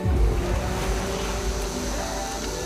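Ocean waves washing around a boat out at sea, a steady broadband wash with low rumble and wind, continuous and fairly loud throughout.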